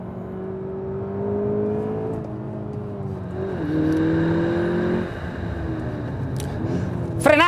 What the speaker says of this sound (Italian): E anche il sound dello scarico non è niente male.